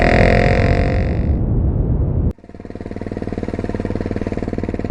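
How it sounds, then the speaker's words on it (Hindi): A motorcycle at a railway crossing at midnight: a loud, roaring engine rev for about two seconds cuts off abruptly, then gives way to a steady, rhythmic putter as the engine runs on close by. "बाइक वाले ने बिना एक पल गवाए तुरंत बाइक स्टार्ट की और रेलवे फाटक पार करते हुए तेज रफ्तार में आगे बढ़ गया"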